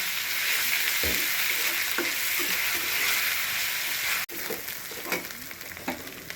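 Onion and garlic frying in a pan for a home lunch, an even hissing sizzle with spatula scrapes and knocks breaking through, loud and close throughout.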